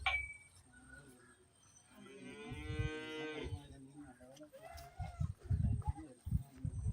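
Cattle on a farm low out in a drawn, clear moo lasting a couple of seconds, followed by shuffling and thumping movement close by, with faint birds in the background.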